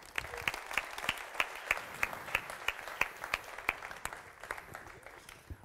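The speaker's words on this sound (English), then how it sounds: "please give a warm round of applause to Mr." An audience applauds to welcome Hal Varian, Google's chief economist, at a discussion event, with distinct individual claps standing out over a moderate, steady patter that thins toward the end.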